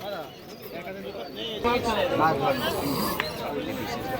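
Pigeons coo among baskets of birds at the Birnagar village pigeon market, their soft rolling calls half-buried under steady crowd chatter and nearby talking voices.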